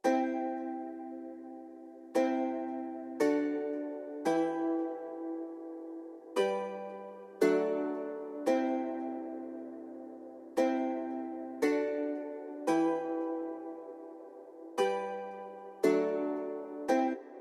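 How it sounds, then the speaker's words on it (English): A lo-fi 12-string guitar sound from a vinyl-style guitar instrument plays separate chords, each one ringing bright and shimmering and then decaying, spaced apart with short silent gaps across a steady, unhurried rhythm. "This is the lo-fi 12 string from vinyl guitar."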